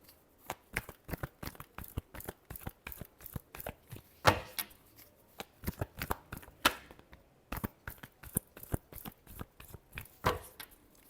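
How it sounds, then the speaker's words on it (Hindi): A deck of tarot cards being shuffled by hand: crisp, rapid riffles and flicks in quick bursts, with brief pauses between, close and clear with no talking. "Last shuffle."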